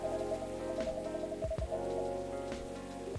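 Rain falls in Coffee Talk 2 as a soft steady patter beneath sustained musical tones, continuous and even for a few seconds.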